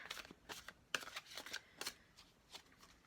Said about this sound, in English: I always like to shuffle on screen so that each group sees that I am being very diligent in shuffling them up